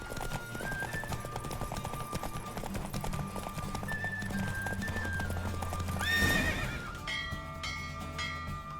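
In The Witcher 3: Wild Hunt, hooves clip-clop in a steady rhythm as a horse gallops in a race, with a loud whinny rising near the end over background music.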